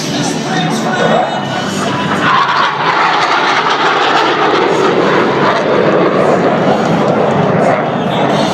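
Blue Angels jets perform a roll at a 2012 airshow, with a steady, loud broadband jet roar sustained throughout as the aircraft pass, and an announcer speaking over the engine noise.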